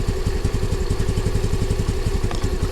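A 2022 Honda NAVI motorcycle engine idling after a cold start, a loud, close, steady rapid thumping putter with an even pulse throughout, with no talking.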